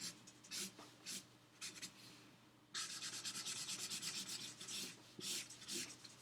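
Colored pencil shades a drawing of an Easter bunny on paper, giving close, quiet, repeated rubbing strokes in short bursts and then a longer run of quick back-and-forth scratching.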